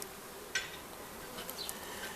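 Faint honey bee buzzing from a colony with nosema disease drifts through a quiet background, a few brief louder hums passing close for a moment.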